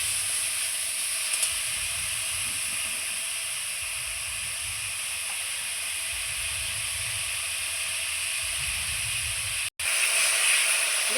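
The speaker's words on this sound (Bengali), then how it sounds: "দেখুন টকটা আমার খুব সুন্দর করে আমটা ভাজা হয়ে গেছে" Green mango pieces frying in oil give a constant broad hiss and sizzle, with low stirring thumps and scrapes underneath and no voices.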